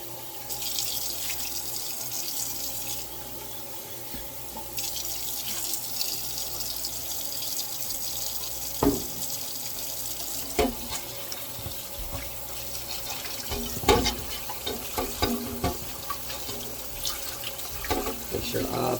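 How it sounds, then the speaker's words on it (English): Tap water runs steadily into a kitchen sink while dandelion leaves and stems are rinsed under it, with splashing and occasional sharper sloshes as the greens are moved around. A voice talks intermittently. "So rinse off the leaves and the stems as well"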